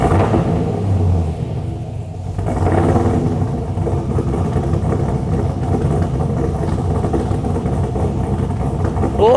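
A cammed V8 ute on a dyno fires up and settles into a loud, lumpy, rumbling idle. The deep engine burble stays close and steady throughout.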